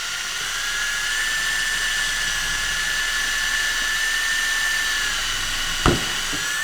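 A cordless drill bores through a discarded plastic bottle, giving a steady, fairly loud whine that holds for about five seconds, then a brief sharp crack near the end as the bit breaks through.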